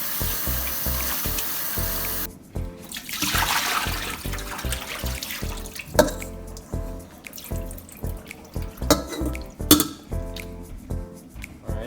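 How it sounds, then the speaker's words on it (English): Raw chicken wings are rinsed under a running kitchen tap, with a steady splashing stream into the sink broken by drips, wet handling and occasional light clinks. "we're gonna wash the wings, rinse them off"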